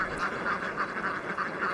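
Sea ducks on mangrove mudflats quacking in a steady, rhythmic series of nasal calls, fairly close and clear, with no voices.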